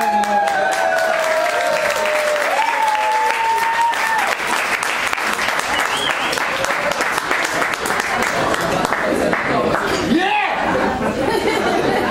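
An audience at a stand-up comedy show in Hebrew breaks into sustained, loud applause that fills the whole stretch, mixed with crowd chatter and scattered laughter.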